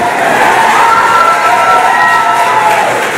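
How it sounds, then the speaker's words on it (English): A crowd cheers loudly and continuously during a SpaceX Crew Dragon in-flight abort test, a dense sustained roar of voices and whoops with no breaks. "some major cheering going on here as every stage of this test unfolds"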